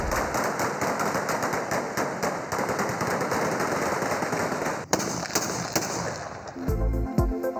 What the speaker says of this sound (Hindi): तहरीक इंसाफ के नाराज ग्रुप की खुशी में हवाई फायरिंग।